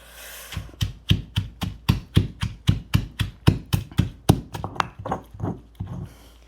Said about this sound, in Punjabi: ਕੁੰਡੇ ਨਾਲ ਚਟਨੀ ਕੁੱਟੀ ਜਾ ਰਹੀ ਹੈ